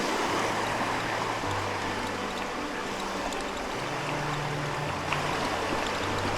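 Kettle Creek flowing beside a forest trail in Loyalsock State Forest, Pennsylvania, a steady broad rush of water heard close and continuous, with a low mechanical hum running beneath it.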